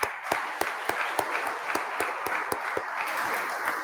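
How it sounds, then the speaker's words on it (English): An audience claps in a fairly even, moderate burst of applause with distinct individual claps standing out from the crowd noise, heard without talk over it. "A round of applause."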